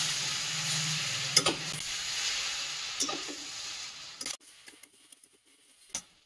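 Fried onions are stirred into chicken curry frying in a pan, heard as a soft continuous sizzle with a few spoon scrapes and taps, fading to quiet after the stirring stops, with occasional light clicks.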